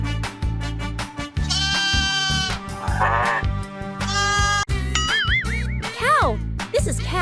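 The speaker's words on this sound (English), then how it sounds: "Sheep! This is sheep!" Sheep bleat in a series of wavering, nasal cries, some short and some drawn out, close and clear over a light tinkling musical backing.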